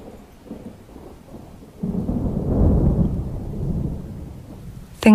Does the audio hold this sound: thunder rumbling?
yes